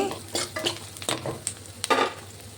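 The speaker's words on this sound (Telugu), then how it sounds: "పసుపు వేసుకున్న తర్వాత బాగా కలుపుకొని" A spoon stirs turmeric into spinach frying in a pan, with a run of close scraping strokes and light metal clinks over a soft sizzle.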